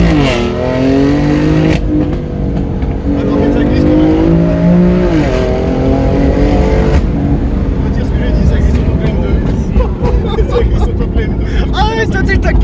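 A BMW M4 fitted with a Milltek exhaust revs and accelerates loudly and continuously, its engine note rising and falling in steady sweeps, with voices talking over the roar.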